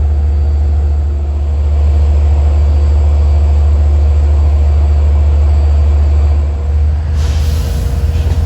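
A passenger train runs past at close range on Long Island, a loud, steady low rumble of wheels and engine that holds for several seconds before the sound shifts as the cars clear.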